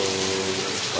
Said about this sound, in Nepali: खतरनाक पानी पर्छ हो गोवामा